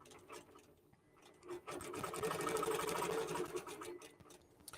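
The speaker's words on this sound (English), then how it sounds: "And now it's quilting that second row." A QBOT quilting robot on a sewing machine quilting a second row, with a steady rapid needle chatter that swells to a continuous close hum and then eases off.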